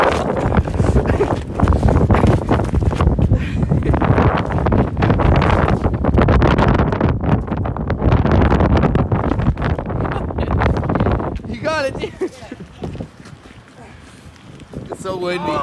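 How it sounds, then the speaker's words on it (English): Strong wind buffets the microphone in loud, continuous rumbling gusts that ease off near the end, with faint voices underneath. "It's so windy."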